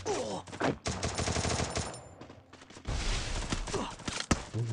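Video game gunfire crackles in sharp, irregular bursts of rapid shots, loud and close, with brief pauses between volleys and a faint voice in the background.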